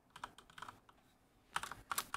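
Typing on a computer keyboard while entering commands into iNav 4 flight-controller software, with quick bursts of close key clicks separated by a short pause.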